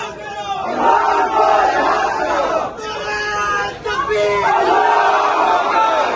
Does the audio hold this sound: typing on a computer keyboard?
no